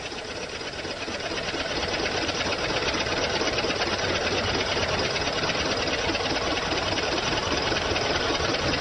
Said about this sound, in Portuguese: Um disco de metal é movido pelo motor e uma polia é pressionada contra o disco.